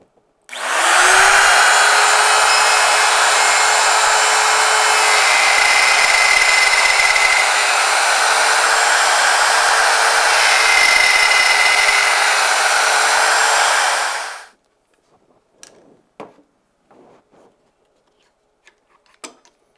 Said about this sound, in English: Let's go ahead and plug our router in and make our first cut.